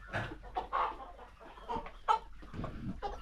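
Chickens clucking at close range on a farm in a series of short, irregular bursts of fairly soft calls, with a few louder clucks standing out and no talk over them.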